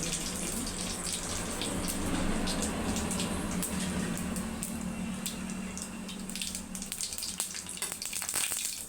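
Mustard seeds and cumin sizzle and crackle in hot oil in a pan, a continuous close frying hiss with scattered sharp pops that grow busier toward the end, with no voices.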